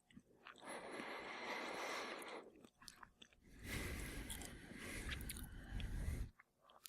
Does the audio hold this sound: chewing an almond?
yes